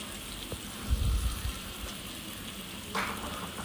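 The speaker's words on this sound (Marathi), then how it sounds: "त्या हळूहळू थोड्या टाकल्या तव्यामध्ये. मस्तपैकी परतले." Taro leaf rolls (alu vadi) frying in a pan with a spice tempering give a soft, continuous sizzling hiss, with a few faint bumps and no voices.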